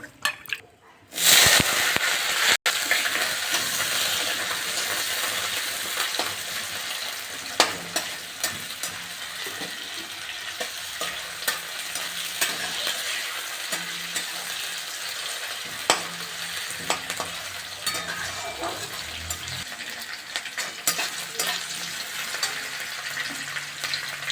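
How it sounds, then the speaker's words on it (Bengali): Capsicum and potato frying in oil with panch phoron for a mixed vegetable dish, a steady sizzle broken by repeated scraping stirs and the clatter of a spoon against the pan, close and prolonged. "প্রথমে ক্যাপসিকাম আর আলুটা আগে ভেজে নিচ্ছি"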